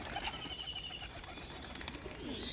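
Soft cooing of pigeons being fed, mixed with faint rustling and a low hum, a few scattered coos close by in a quiet room.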